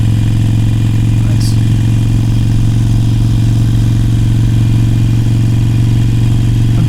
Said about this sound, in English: That's why I'm on this motorcycle.